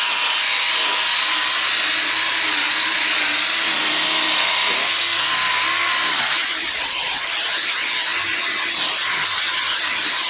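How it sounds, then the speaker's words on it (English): A car buffer polishes paint with Mothers polish, a loud continuous high whine close up that holds steady and shifts slightly in pitch partway through; no talking. "Now we take our buffer."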